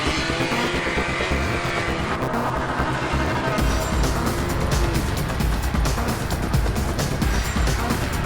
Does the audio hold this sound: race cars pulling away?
yes